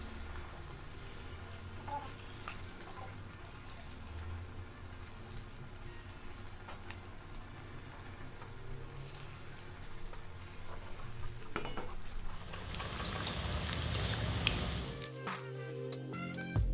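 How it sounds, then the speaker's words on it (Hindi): Marinated chicken for chicken manchurian frying in hot refined oil, a steady close sizzle that swells into loud, bright crackling as pieces hit the pan, with faint stirring ticks and no talking. "एबे आमे मैरिनेट चिकेन को फ्राई करवा तेल गरम हो गलानी"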